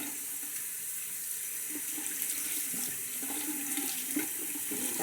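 Warm water runs steadily from a bathroom sink tap, a continuous close splashing stream with no voices.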